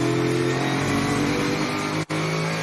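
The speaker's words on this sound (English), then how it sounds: "the LS power plant sounds sweet between the chassis rails" The LS V8 engine of an innovation race car roars steadily, heard onboard and close, holding a sustained note with a brief dip near the end that sounds like a gear change.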